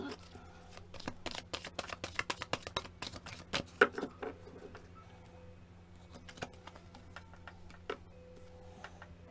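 Tarot cards shuffled near the mic, a quiet run of crisp, rapid taps and riffles for the first few seconds, then sparse faint clicks over a low hum.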